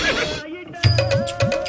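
Horse neighing in a comedic historical scene, a couple of rising whinnying calls, fairly close, with voices and other sounds around it.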